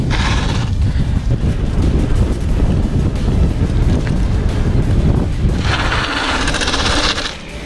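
Strong wind buffets the microphone continuously during a ride on a Cannondale Trail SL2 bicycle, a loud rumbling roar with gusts that brighten into a hissing rush near the end.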